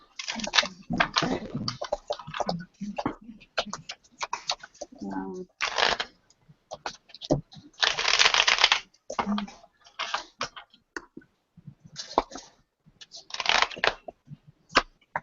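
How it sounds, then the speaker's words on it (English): Repeated riffling bursts of cards being shuffled, several quick rounds with pauses between, while people talk nearby. "we're all shuffling our cards and getting ready"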